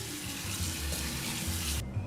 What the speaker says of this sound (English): Give them a quick rinse with some cold water.